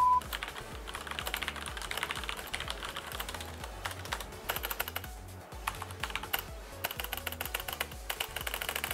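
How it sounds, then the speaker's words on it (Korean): Fast, continuous typing on a Corsair K63 Wireless mechanical keyboard with Cherry MX Red switches, close-up keystrokes clattering in quick irregular bursts with no voices. "제가 타건을 해봤는데요 방금 여러분께서도 느끼셨겠지만"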